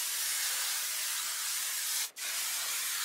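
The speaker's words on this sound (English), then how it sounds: "I'm gonna give the hair a quick spray" Hairspray misted onto a brown body-wave wig, a steady close hiss lasting about two seconds, then a brief pause before the spray resumes.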